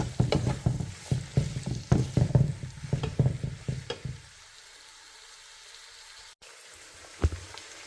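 Vegetables sautéing and being stirred in a pan while cooking a corn chowder, with scraping stir strokes and a light sizzle for about four seconds before the sound mostly drops away, leaving a faint hiss and one late clack.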